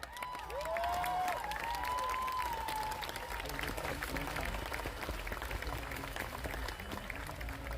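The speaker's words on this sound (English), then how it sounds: "Give yourselves a hand of applause" A crowd at a protest rally breaks into applause and cheering, with a voice whooping early on and then sustained clapping, somewhat distant and faint, through to the end.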